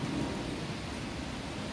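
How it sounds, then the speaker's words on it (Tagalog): Heavy rain pours in a steady, dense hiss, fairly soft and continuous, with no voices. "Lakas ng ulan"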